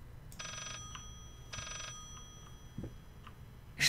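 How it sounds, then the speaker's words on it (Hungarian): Two bursts of an old-style telephone bell ringing echo through the eerie house of the horror game Layers of Fear, then a few fainter chimes and a short noise follow, with no talking. "Még egy telefon."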